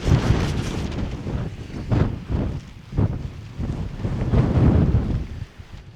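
Wind gusting and buffeting over a summit campsite beside a small ultralight tent, roaring unevenly in close, rough bursts against the microphone with no talk.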